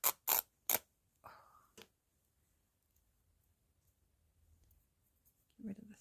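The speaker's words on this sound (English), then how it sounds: "Sorry about all the clanging with the scissors on the desk." Three sharp metallic clacks of scissors hitting a desk land close together, followed by a few lighter knocks and then near silence with faint movement.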